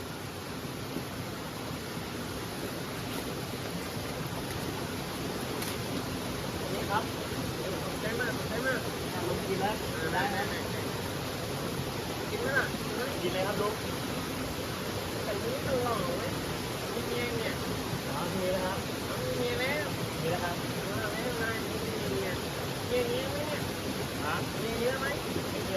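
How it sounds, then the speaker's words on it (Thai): Water flowing down through a forest gives a steady, broad rushing wash that runs the whole time beneath someone talking close by. "ไม่รู้ว่าพี่ๆ น่าจะได้ยินกันหรือเปล่านะ เพราะว่ามีเสียงน้ำไหลลงมานะครับ"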